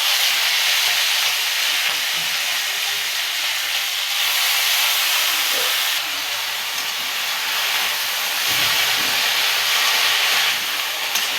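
Greens hit a hot pan of fried shrimp and set off a loud, continuous broadband sizzle, hissing steadily up close throughout with slight swells and no talking.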